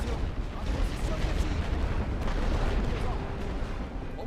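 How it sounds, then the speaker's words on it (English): Heavy artillery keeps firing in a strategy video game, a continuous rumble of booms and distant thuds at moderate volume with no clear gaps between them. "God, I love heavy artillery."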